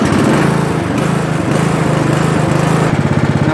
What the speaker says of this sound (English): Let's go ahead and start the mower.